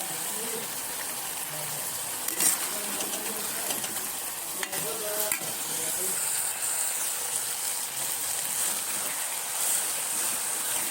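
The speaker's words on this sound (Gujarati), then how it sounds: "અને સ્વાદ મુજબ મીઠું એડ કરીને આપણે થોડીક વાર શેકાવા દેશું।" Spring onion sabzi seasoned with coriander powder, turmeric and salt, roasting in a pan: a steady, close sizzling hiss with occasional faint clinks and stirring scrapes throughout.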